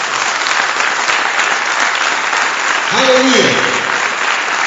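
A church congregation bursts into loud, sustained applause that fills the whole stretch, with a voice shouting over the clapping near the end.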